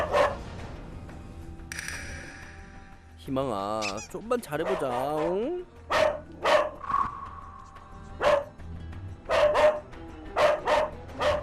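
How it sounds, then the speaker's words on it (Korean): Hope, a highly aggressive dog with a history of biting, barks fiercely in sharp repeated bursts, loud and close. Whining, squeaky yelps come between the barks, and a person speaks over them. "보호자가 눈을 마주치지 않자 더욱 맹렬히 짖는 희망이"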